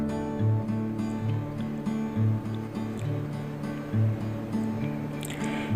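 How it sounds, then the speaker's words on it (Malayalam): Chilled milk and cream are beaten until creamy, a steady motorized whir with a tonal hum and rhythmic swelling pulses as the mixture churns, close and fairly loud without speech. "ഇതേപോലെ നല്ല ക്രീമി ആയിട്ട് വരുന്നവരെ നമ്മൾ നന്നായിട്ടൊന്ന് ബീറ്റ് ചെയ്ത് കൊടുക്കുക"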